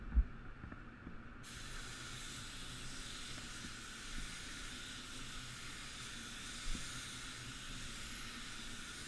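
A paint spray gun lays a medium wet coat in a spray booth. The airy hiss starts abruptly and holds steady and close, over a low background rumble.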